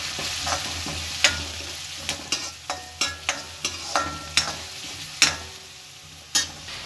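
A frying mixture with a quarter teaspoon of turmeric powder is stirred in a pan for a village-style green gram, egg and chicken palya. A spoon scrapes and clacks repeatedly over a soft sizzle, with no voices.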